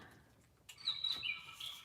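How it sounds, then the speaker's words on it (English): A small bird chirps faintly in a quiet outdoor setting, a few short high tweets toward the end. "I hear you, bird"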